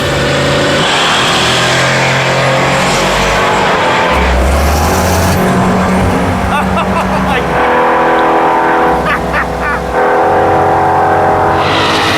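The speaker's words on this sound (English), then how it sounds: "It's the Rotsun versus the Impala, the turbo small block Ford versus the blown big block Chevy, and Freiberger versus Finnegan." A blown big-block Chevy Impala drag racing a turbo small-block Ford-powered Datsun, with loud engine roar and rising revs as the cars launch and pull away. A commentator talks over the engines.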